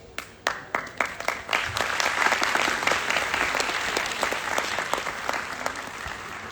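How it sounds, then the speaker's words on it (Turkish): Audience applause at a book fair talk begins with a few scattered claps and swells into dense, sustained clapping from a crowd that fills the room. "Sizin yüzünüzden oldu alkış."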